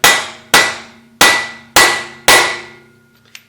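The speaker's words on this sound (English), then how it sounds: "take your hammer and tap on it" A hammer strikes a socket fitted over a wheel stud on the front axle of a 2005-2020 Ford F250-F550 Super Duty. Five loud, ringing metallic blows land at a steady pace, each decaying, followed by a light clink.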